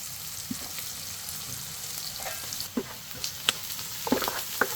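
Soft continuous sizzle of onions frying in tempering oil until golden brown, with occasional sharper pops and crackles scattered throughout, no voices.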